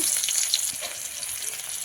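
Chopped onion sizzling in hot oil in a wok, a steady soft crackling hiss with faint bubbling, heard alone at moderate volume.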